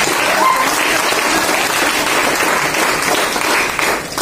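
An audience at a business marketing meeting breaks into loud, steady clapping that continues throughout, with only faint crowd noise beneath, tapering slightly at the close.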